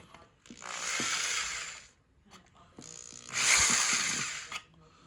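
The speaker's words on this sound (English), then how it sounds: "I'm just taking some pliers and I'm just kind of grinding it out" Pliers grinding out plastic inside a proton pack, two bursts of rough scraping and grinding about a second or more each, separated by a short pause with small clicks, close and fairly quiet.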